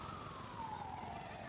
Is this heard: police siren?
yes